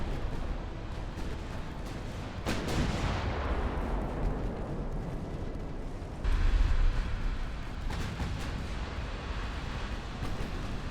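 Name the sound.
naval ship gunfire in the video game Ultimate Admiral: Dreadnoughts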